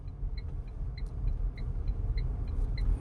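A Tata Punch car drives with its engine running, giving a steady, close low rumble of engine and road noise with faint, evenly spaced light ticks above it.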